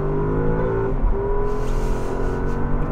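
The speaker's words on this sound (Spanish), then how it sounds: "Vamos a 75 km por hora y voy a pisar a fondo." A Porsche Cayenne Turbo S e-Hybrid accelerating at full throttle from about 75 km/h, its engine roaring steadily and loudly from inside the cabin with rising pitch, no talk over it.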